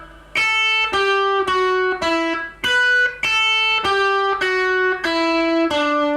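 An electric guitar picks a quick run of about ten distinct notes, each attacked cleanly and ringing briefly, loud and close with a light overdriven edge, no voices.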